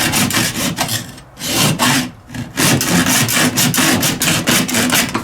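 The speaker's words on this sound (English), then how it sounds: "This is a very aggressive hacksaw blade, I must say." A very aggressive hacksaw blade rasps through material in quick repeated strokes, loud and close, with brief pauses between bursts and no voices.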